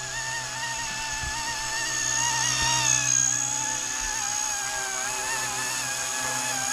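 A Blade 150 RC helicopter flying, a steady high-pitched motor and rotor whine with wavering tones that swells slightly as it comes nearer, then stays constant, with no voices.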